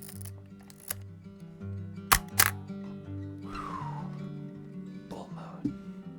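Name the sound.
Fujifilm ST605N film camera shutter clicking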